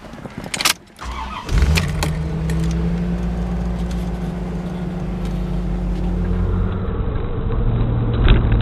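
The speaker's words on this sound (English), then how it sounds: "I'm not gonna do much talking with the top down because it's noisy" Steady engine rumble and wind roar from a C4 Corvette convertible driving with the top down, after a brief door thump and clatter at the start.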